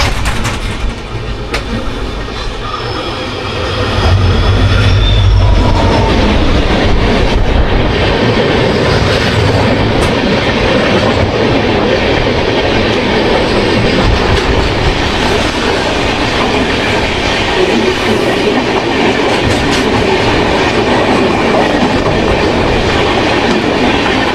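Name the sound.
trains passing each other, Gurumukhi SF Express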